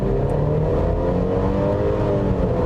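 A 2020 Mercedes-Benz GLC 300 Coupe at full throttle gives a steady, continuous engine drone with rising tonal harmonics, heard from inside the cabin throughout.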